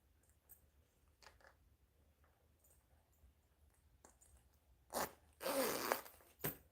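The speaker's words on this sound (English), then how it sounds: "Zippers done." A clothing zipper is pulled closed in a quick rasping burst of two to three pulls near the end, after a quiet stretch with faint small handling noises.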